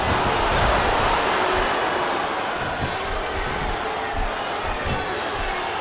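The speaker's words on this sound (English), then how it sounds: "I'm not sure I agree with what the crowd is chanting, JR, but I guess it's their right." Arena crowd noise from the wrestling video game WWE SmackDown vs Raw 2007 during a women's championship match, a loud, steady roar of chanting fans that fills the whole clip with no break.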